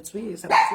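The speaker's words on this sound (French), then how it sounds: "là, vous avez entendu japper" A small black pug yaps in short sharp bursts near the microphone, partly overlapping a person speaking in French.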